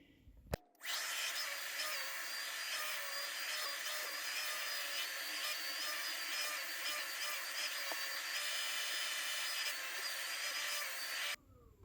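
A Milwaukee M12 shop vac hums in a steady, loud, airy whine for about ten seconds, sucking up scattered vinyl and rubber debris, then cuts off sharply.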